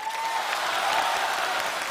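Studio audience applause at a televised Chinese New Year gala show, a dense, steady wash of clapping from a large crowd that holds evenly for the full stretch.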